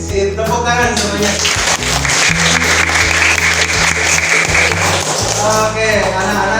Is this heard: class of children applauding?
yes